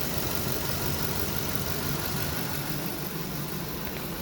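Gasoline 8.1 L Vortec V8 idling with one fuel injector disabled, a steady, close, mid-pitched engine rumble with constant vibration throughout and no talking.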